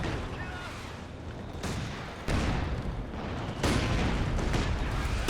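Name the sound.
mortar firing in a video game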